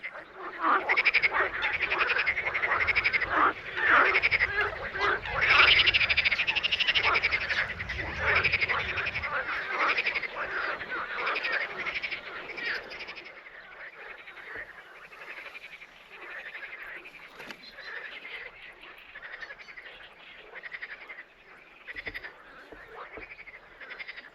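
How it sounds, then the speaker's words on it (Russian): A dense spring chorus of croaking frogs in the Manych area fills the air with continuous rattling calls, loud at first and thinning to a sparser, quieter trill. "заглушить весенний хор амфибий было невозможно"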